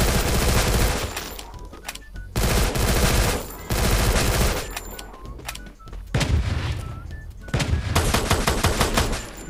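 Loud bursts of automatic gunfire in the Free Fire mobile shooter, with rapid volleys in several clusters separated by brief lulls, close and dense throughout.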